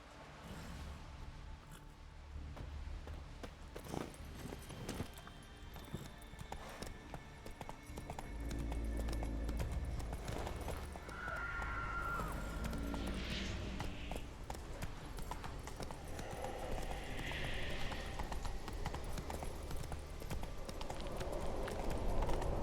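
Hooves of the horse Roach in a video game, a steady clip-clop of walking steps at a moderate distance over ambient background, growing slightly louder toward the end, with no talking.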